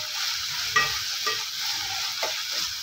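Chopped onions sizzle steadily in a hot pan as they roast toward golden brown, with a few soft scrapes of stirring cutting through the constant close frying hiss; no voices.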